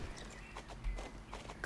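Hooves of an Appaloosa horse pound in full gallop in Star Stable Online, a rapid rhythmic drumming that is faint and brief.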